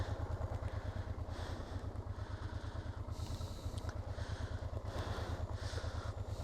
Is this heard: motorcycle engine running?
yes